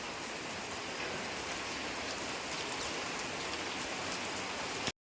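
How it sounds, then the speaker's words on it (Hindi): Steady, dense rain patters on surfaces at an even intensity, a continuous hiss with no talking, ending abruptly. "बारिश आ रही है आज तो"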